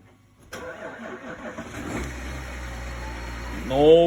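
A 2020 Chevrolet Silverado with a 3.0L Duramax diesel cold-starts at 28 below: a sharp crank burst, then the engine catches and holds a low, steady idle, rising into a brief rev near the end.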